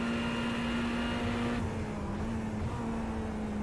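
GT3 race cars, a McLaren and a Ferrari, at Silverstone, a steady droning engine note held at high revs through the corners, loud and continuous with slight pitch shifts, no talk.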